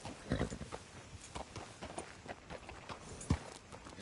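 Horse hooves clip-clop at a walking pace in a PS4 video game, a steady series of soft hollow knocks with a couple of louder thumps, fairly close and alone.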